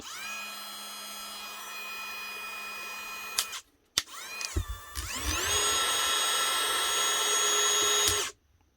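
A Metabo cordless drill motor whines at a steady high pitch, stops briefly, then spins up again and runs smoothly before cutting off, close and fairly quiet.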